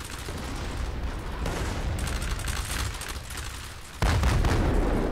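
Repeated artillery fire in the Roblox game Conquest, a continuous rolling barrage of booms and cracks with a heavier burst near the end, loud and without talk.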